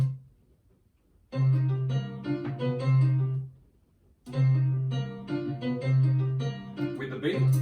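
A chopped piano loop plays in a home music mix in two bursts separated by a short silent gap, each burst a bright rhythmic run of piano notes over a steady low bass tone, with no talking.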